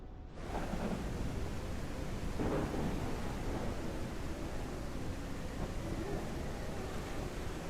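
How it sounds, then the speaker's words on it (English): A thunderstorm in the video game Cauldron Chronicles rumbles as a dense, steady wash of rain-like noise with a soft thunder swell, heard alone and fairly loud throughout. "So when you're nearer to the surface, you should hear a bit of the storm still."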